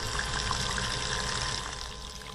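A small bilge pump powered by a car battery pushes water out in a steady gush and trickle, close by and continuous, easing slightly toward the end.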